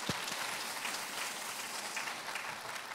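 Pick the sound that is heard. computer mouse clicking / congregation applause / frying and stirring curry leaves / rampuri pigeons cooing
congregation applause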